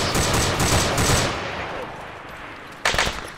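Automatic weapons fire in ARMA 3 combat cracks in loud rapid bursts at the start, fades to quieter rumbling, then another sharp burst follows near the end.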